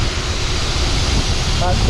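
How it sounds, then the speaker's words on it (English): Loud, steady wind buffeting the microphone on a farm, a constant roaring rush that fills the whole clip up close. "I know it's very loud because it's extremely windy."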